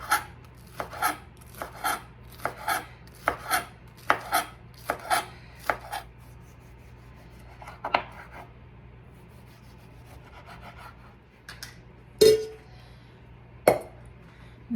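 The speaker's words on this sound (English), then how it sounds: "First, I'm going to cut up my scallions." A kitchen knife chops scallions on a cutting board, a steady run of close, crisp knocks for several seconds, then a few scattered cuts and board taps after a pause.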